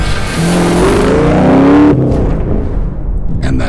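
A Dodge Viper's engine revs hard and loud up close, its pitch climbing in a rough rising roar, then cuts off abruptly and drops to a lower idling rumble.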